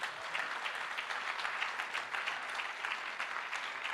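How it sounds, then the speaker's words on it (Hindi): A crowd at a celebration event breaks into loud, sustained applause, a dense, even wash of many hands clapping throughout, with no speech over it. "मैं चाहूँगा सबसे पहले इस सिस्टम के लिए जोरदार तालियां हो जाएं"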